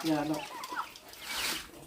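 Chickens cluck on a farm, close by and moderately loud, in short bursts, while a person talks over them.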